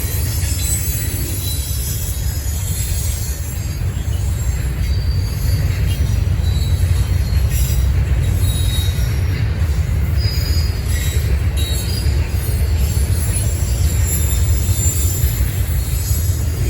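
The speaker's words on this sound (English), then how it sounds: "Our first NS eastbound intermodal train of the day would be NS-22W." Norfolk Southern eastbound intermodal freight NS-22W, running from Chicago to Rutherford, Pennsylvania, rolls past at Berea. It is a loud, steady rumble of rail cars with high wheel squeal that holds for the whole stretch, close by and with no talk.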